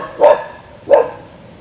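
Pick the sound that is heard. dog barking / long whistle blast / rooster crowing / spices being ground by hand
dog barking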